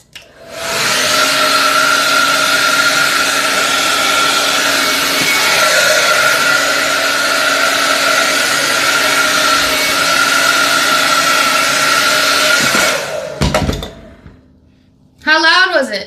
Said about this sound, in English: I'm gonna blow dry this now. It might be really loud.